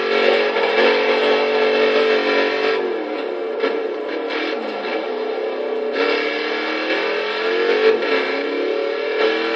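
Engine of a 2015 Dodge Challenger SRT Hellcat in Forza Horizon 3, a loud sustained roar with shifting intensity as the car accelerates and revs, with a brief dip midway before surging again.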